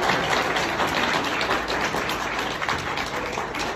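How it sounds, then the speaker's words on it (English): A crowd of students and staff claps for student performers at a school cultural and talent show assembly, producing a thick, continuous wash of applause that holds evenly throughout. "Round of applause for the students."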